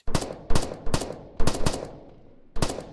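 Sharp gunshots from the military shooter video game Afterconflict ring out in irregular bursts, some in quick pairs, each one trailing off with a short echo.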